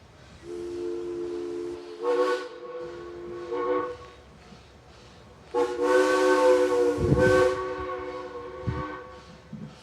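A steam locomotive on the Strasburg Railroad sounds its whistle in a loud, chord-like series of blasts, short then longer, ending in a sustained wail with a hissing burst of steam.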